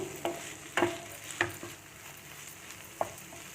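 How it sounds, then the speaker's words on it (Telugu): Bitter gourd and onions frying in a pan make a faint, steady sizzle broken by a few sharp clinks and scrapes of a spatula, close up and quiet, with no speech. "ఇవి వేగుతున్నాయి కాసరకాయలు మగ్గాయి ఇంకొంచెం ఉల్లిపాయలు ఎర్రగా అవ్వాలి"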